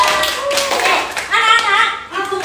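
Children in a classroom clap together, a quick burst of hand claps mixed with young voices and a teacher speaking over it, fairly close and lively.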